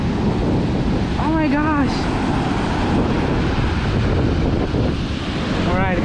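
Huge ocean waves at Diani Beach, Kenya, crash in a constant heavy roar, mixed with strong wind buffeting the microphone, while a man briefly exclaims over the surf.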